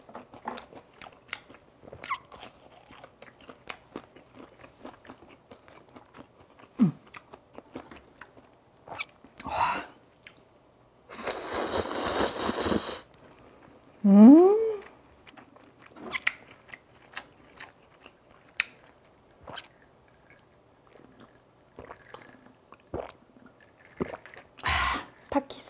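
Takis rolled-tortilla chips crunched and bitten in a close-miked mukbang-style eating session, giving scattered crisp bites and chewing, with a few louder bursts and no talking.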